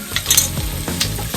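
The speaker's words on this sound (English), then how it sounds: "and then we're tossing our green beans." Green beans tossed in a hot sauté pan, loud close sizzling and frying with quick scraping stir and clatter of vegetables against the pan, no voices.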